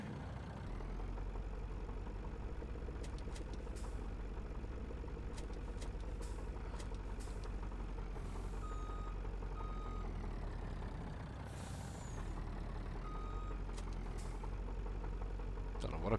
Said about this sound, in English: I started the engine.